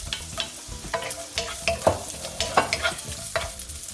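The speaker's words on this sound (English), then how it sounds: "Now drop in the carrots first because I want that to" Carrots drop into about a teaspoon of hot oil in a pan and fry with a steady close sizzle, punctuated by stirring clinks and scrapes.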